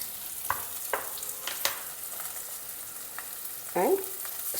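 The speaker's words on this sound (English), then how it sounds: "Next, add in these boiled and chopped potatoes to this." Boiled, chopped potatoes fry in a pan with turmeric, giving a soft steady sizzle broken by a few sharp clicks and scrapes of stirring, with one louder clatter near the end.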